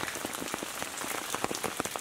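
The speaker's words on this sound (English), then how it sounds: "when it's raining the streets in our village turns to the river." Steady rain falling on the streets of a rural French village, dense continuous patter of drops on hard surfaces, close and even throughout with no voices.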